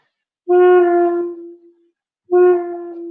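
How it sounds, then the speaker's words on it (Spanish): Two sustained saxophone tones demonstrating serial key closures, the first swelling and fading out, the second starting abruptly after a short silence and holding steady. "los cierres en serie son llaves que se añaden,"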